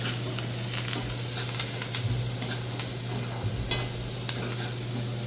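Turmeric sautéing in hot oil for a tempering, a steady close sizzle with a low hum and scattered sharp taps of stirring, no speech.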